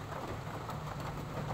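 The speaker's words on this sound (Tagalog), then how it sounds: "Umuulan dito." Steady rain pours outdoors along the Pasig Esplanade, a dense continuous hiss of drops hitting surfaces, fairly loud and unbroken with no voices.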